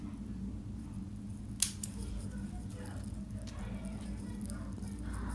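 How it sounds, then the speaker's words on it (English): Scissors make two quick, quiet snips in close succession while cutting leaves off plants in a spring vegetable patch, set against a soft, steady outdoor background hum. "Yeah, just snip these ones off."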